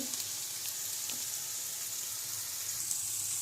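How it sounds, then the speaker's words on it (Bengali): Dry fruits frying in ghee as sugar goes into the pan, giving a steady, close, even sizzle with faint stirring scrapes throughout and no talk. "এই যে বন্ধুরা চিনি ঢেলে দিয়েছি ড্রাই ফ্রুটের জন্য"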